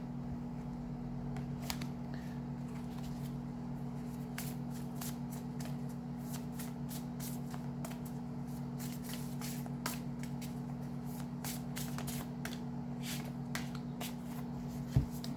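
A Woodland Wardens oracle deck being shuffled by hand, with soft, rapid papery flicks and slides in irregular bursts over a steady low room hum, close up and with no talking.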